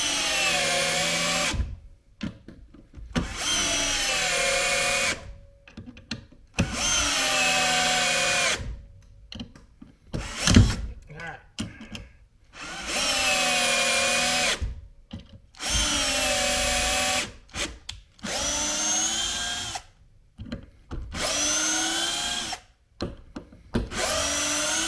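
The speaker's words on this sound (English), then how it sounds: "Next up, the Bosch driver, which I had on the most powerful setting." A Bosch driver on its most powerful setting whirs in about eight loud, steady bursts of a couple of seconds each, separated by short pauses, close to the listener.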